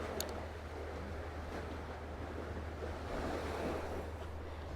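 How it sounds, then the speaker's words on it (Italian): Lake water lapping against the shore on a lakeside walk near a river mouth, a steady soft wash of small waves with breezy wind noise on the microphone and no talking. "vi faccio sentire proprio il rumore dell'acqua"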